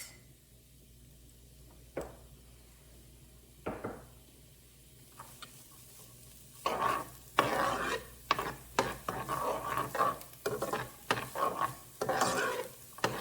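Onion and garlic cloves in a pan that is only beginning to heat, first a few isolated scrapes, then a run of close, rhythmic scraping and stirring strokes with a light sizzle.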